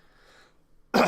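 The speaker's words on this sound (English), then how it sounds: "sorry, man, this cough is just getting me" A man giving a positivity talk coughs once, a sharp loud burst near the mic after faint background sound.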